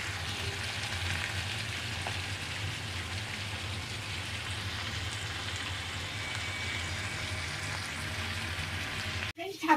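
Tomato masala frying in a pan for dhaba-style palak paneer, giving a steady, even sizzle that holds for the whole stretch and ends in a brief clatter as it is stirred.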